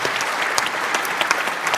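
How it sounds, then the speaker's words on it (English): Audience applause at a European Collaboration Summit tech conference, a steady wash of many hands clapping with scattered sharper claps, sustained throughout without speech. "So clap for Vesa."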